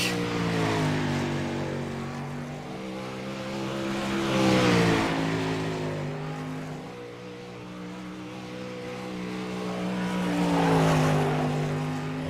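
Race car engine roaring through a qualifying lap at Volusia Speedway Park, Lance Jackson's 118 machine, droning steadily and swelling loud twice as it passes close, then fading away.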